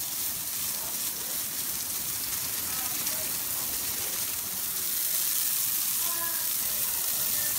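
Garden hose spraying water onto the surfaces of a drained pool, a steady broadband hiss like heavy rain on hard ground, constant and close, with faint background voices.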